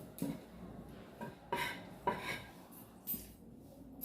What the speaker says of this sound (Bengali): আলুগুলো ছোলা হয়ে গিয়েছে এবার আমি কেটে নেবো